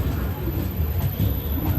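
An intercity train from Bangalore pulls into a station with a steady, loud low rumble of rolling wheels and carriages throughout, heard close and without a break.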